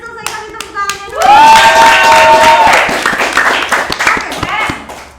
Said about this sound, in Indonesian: kami tepuk tangannya dulu.